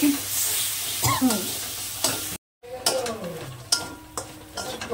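Ground cashew, poppy seed and fennel paste frying in a pan, a close sizzle broken by repeated scraping strokes of a spoon against the metal, with a brief gap midway and brisk stirring after.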